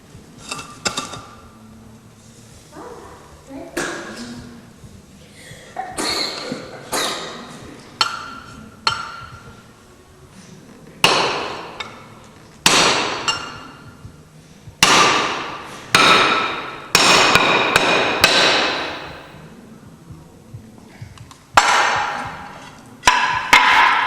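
Hammer and chisel strike and split Welsh slate in a series of sharp, ringing taps and cracks, some clustered and some spaced apart, close and fairly loud, with occasional brief talk between blows.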